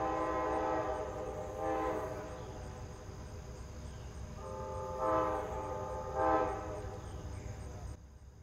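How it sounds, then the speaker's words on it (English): A distant approaching passenger train horn blows in two pairs of long blasts over a steady rumble, with insects chirping throughout. "the horn of the approaching train"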